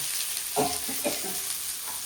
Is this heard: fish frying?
yes